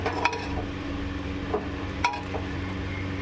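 Daliya khichuri with turmeric and chilli powder stirred in a pressure cooker pot, a low background hum with a few light scrapes and clinks of a spoon against metal, close and quiet.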